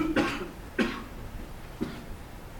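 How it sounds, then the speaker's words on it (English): Three short coughs spaced about a second apart, fairly close and moderately loud, with quiet room noise between them, during a classroom math lesson. "Was that a sympathy cough there?"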